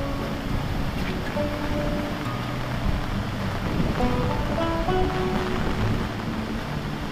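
A small stream runs over a shallow water crossing near a waterfall in a forest sanctuary, giving a steady, full rushing wash close by with no voices.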